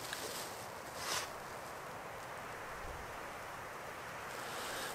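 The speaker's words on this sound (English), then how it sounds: "It's pretty windy today." Wind blows steadily across the microphone in open Colorado mule deer hunting country with a broad roaring hiss, gusting briefly louder near the start; fairly quiet overall, no voices.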